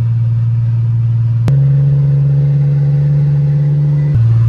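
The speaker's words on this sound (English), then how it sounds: "this car get up pretty damn quick from like 60 to 80" A Mercedes W210 sedan accelerating from about 60 to 80 mph, its engine hum stepping up in pitch and staying steady, a loud close interior drone with no talk.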